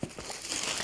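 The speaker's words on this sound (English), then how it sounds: "Oh, and a gratuitous piece of tissue paper on top of the box." A loose sheet of tissue paper resting on top of a parcel box crinkles and rustles up close, a short burst of crumpling handled by hand.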